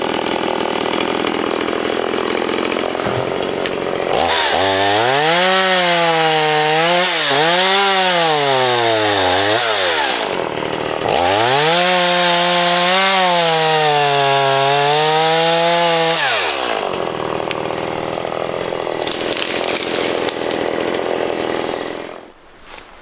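A chainsaw trims trees at a black bear bait site in Saskatchewan, its engine loud and close as it revs up and bogs down through two long cuts with brief idle gaps between, then cuts out at the end.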